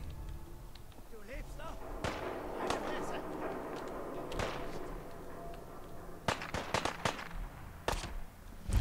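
Sharp gunshots crack in Fallout 4, scattered single and paired reports over a low game ambience, with someone talking throughout.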